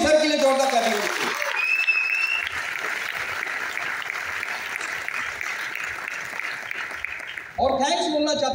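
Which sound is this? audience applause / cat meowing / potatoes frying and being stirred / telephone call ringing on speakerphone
audience applause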